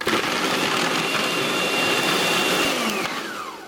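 A kitchen blender grinds chili, quartered onion, ginger pieces and garlic cloves into a smooth paste, a loud steady motor whir held nearly four seconds before it starts winding down at the end.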